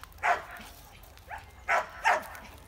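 Labrador dogs bark at a kennel outdoors, several short, sharp barks in quick succession at moderate distance, with a quieter yelp between them and faint background noise.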